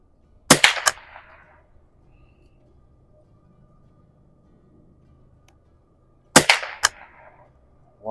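Two sharp, loud rifle shots from a Stevens Springfield 87a at an outdoor range, several seconds apart, each followed by a brief ringing echo, with near silence between them.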